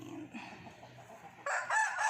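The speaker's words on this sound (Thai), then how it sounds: "ได้ยินเสียงไก่ไหมคะ ไก่คุณพ่อค่ะ ไก่ชนคุณพ่อค่ะ" A fighting rooster crows once nearby at a Thai home garden, a loud bright call in the final half-second after quieter rustling background.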